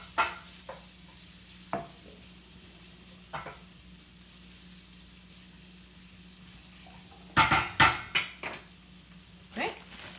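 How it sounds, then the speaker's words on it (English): Sliced almonds and asparagus tossed in a hot pan, with quiet sizzling underneath, scattered single clinks of the pan and a cluster of sharper scraping knocks later on. "I'm going to toss them right in the pan"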